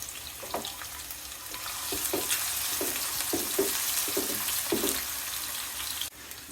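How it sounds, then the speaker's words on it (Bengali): Chopped onions fry in hot oil with whole dried chillies, minced garlic and bay leaves for mung dal with rohu fish head. A steady sizzle runs throughout, broken by regular scraping stirs and a sharp knock near the end. "পেঁয়াজগুলো ভালো করে একটু ভেজে নিব।"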